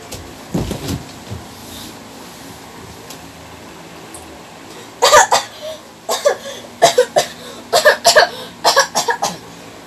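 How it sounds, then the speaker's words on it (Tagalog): A person coughs once early on, then after a quiet pause breaks into a close, loud series of repeated coughs in rapid bursts. "Uy, kailangan pa umubo."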